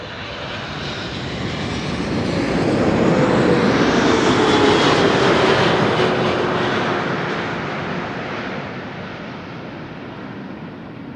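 A KLM Boeing 777-300 widebody arriving from Cape Town passes over Amsterdam Schiphol, its loud engine roar building, cresting near the middle with a descending whine, then gradually fading.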